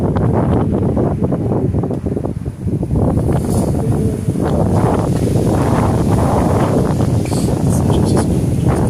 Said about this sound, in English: Pretty blustery late afternoon here.